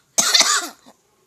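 A single close, loud cough, a harsh burst lasting under a second with a brief trailing catch, heard alone with no talking.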